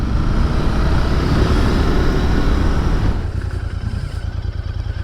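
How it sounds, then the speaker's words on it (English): A large truck rumbles past close by outdoors, its broad low engine roar steady and loud for about three seconds before fading away. "Oh, it was a truck."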